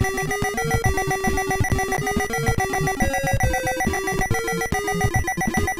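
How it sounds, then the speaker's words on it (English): Loud electronic beeping repeats without pause in a stepped, shifting pattern of shrill tones, like an insistent alarm ringing on and on with nothing else heard over it. "That horrible beeping, I'm sorry, is going to continue."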